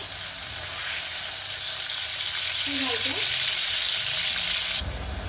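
A thick onion-tomato puree sizzles steadily in hot oil in a kadhai, with a continuous close hiss and crackle and no talking.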